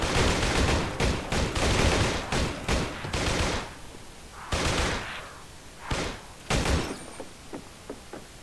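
Bursts of gunfire from a zombie shooting game, loud close volleys in rapid clusters, with pauses and a few fainter shots toward the end.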